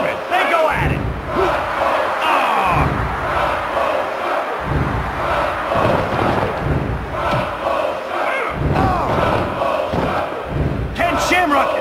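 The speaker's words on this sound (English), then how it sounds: "This crowd has gone bananas." A wrestling arena crowd cheers and roars wildly in a dense, continuous wall of noise that swells and surges in waves, with thuds and shouts mixed in.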